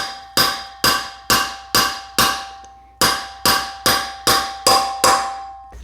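Metal hammer blows drive a wheel bearing into a KTM motorcycle wheel hub: eleven sharp ringing clangs in an even rhythm, each decaying quickly, with a short pause after the first five, close and loud with no talking.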